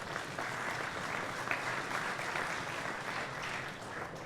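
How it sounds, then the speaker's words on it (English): Audience applause after a startup pitch at a real estate expo competition, a fairly faint but steady spread of clapping from a seated crowd, unbroken throughout. "Big round of applause"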